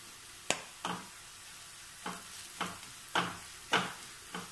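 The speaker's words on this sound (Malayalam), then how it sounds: "എന്നിട്ടൊന്ന് ഇതിൻ്റെ പച്ചക്കൊത്ത് പോകാൻ വേണ്ടി ഒന്ന് ഇളക്കണം." Colocasia stir-fry with turmeric is turned in a pan, about eight separate scraping strokes of a spoon over a faint sizzle, close up and with no one talking.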